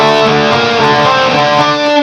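A guitar with every string tuned to D rings out dense, overlapping notes of a Phrygian scale, loud and sustained for about two seconds.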